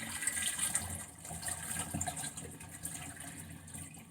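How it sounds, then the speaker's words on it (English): Soaked broccoli sprouts and water are poured from a mason jar into a sieve, making a continuous rushing, splashing gush that is loud at first and then eases into a steady trickle. "we're going to slowly pour out the sprouts into the sieve"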